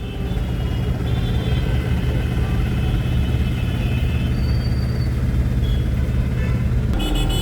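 Standing vehicles idle at Dwarka junction, where traffic has stopped because there is no signal. A steady, close, low engine rumble fills the scene without a break.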